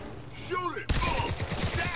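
Gunfire in the video game Crysis 3, a rapid burst of shots that breaks out suddenly midway and continues as a dense volley, with players talking excitedly over it.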